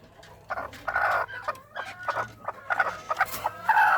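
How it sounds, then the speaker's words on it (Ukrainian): A broody hen clucking up close, giving a run of agitated, repeated clucks and murmuring calls over about four seconds, fairly loud and without talking. "Дивіться, дивіться на цю суперквочку."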